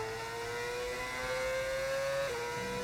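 Video game racing car engine whines at a high, steady pitch, then drops briefly as it shifts, fairly faint with a constant background hum.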